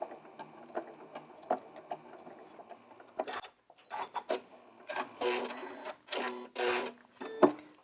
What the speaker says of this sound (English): And I'll just lock off my stitches.